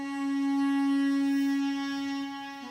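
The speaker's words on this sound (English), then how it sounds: "it's 3 duduks, and it is an ornamented legato, which sounds like this" Three duduks play an ornamented legato phrase from a sampled sound set, a single reedy, sustained note swelling and held with slight ornaments before easing off near the end.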